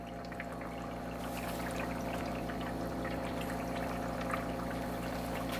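A carburetor linkage part is rinsed in liquid during a home zinc-plating restoration, with a steady close pouring and trickling of water, faint and continuous without speech.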